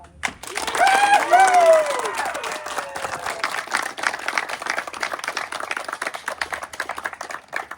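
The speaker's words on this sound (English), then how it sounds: "Please give her a round of applause." An audience at an Eagle Scout court of honor breaks into applause for the new Eagle Scout, steady clapping lasting several seconds while voices and cheers rise over it early on.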